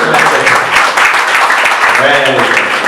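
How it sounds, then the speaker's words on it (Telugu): A church congregation claps together in a dense, continuous patter, with voices mixed in throughout. "అందరూ ఒకసారి చప్పట్లు కొడుతూ"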